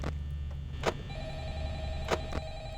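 A telephone rings in the horror game Five Nights at Freddy's, with a few sharp electronic clicks and a steady tone over a low hum.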